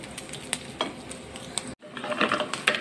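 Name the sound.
sautéing leftover beef patty in a pan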